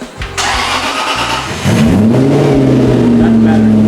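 The engine of an Aston Martin replica supercar, fitted with a new exhaust, cranks with a few rapid starter pulses and then catches and fires up loudly. It settles into a deep, boomy idle close by, with a voice speaking briefly at the start.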